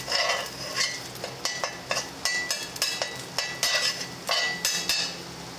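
Eggs cook in a pan on a stove, a soft sizzle under a run of quick scraping, tapping strokes of a utensil against the pan, steady and close.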